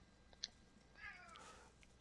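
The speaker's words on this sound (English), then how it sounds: "Just meow, just meows as he leaves" A cat gives a single faint, brief meow indoors, quiet against a low background hum.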